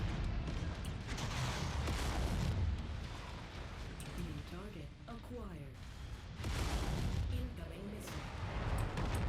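Mech weapons fire in Mechwarrior 5 forms a dense, continuous barrage of booming shots and blasts under steady battle noise, with someone talking over it partway through.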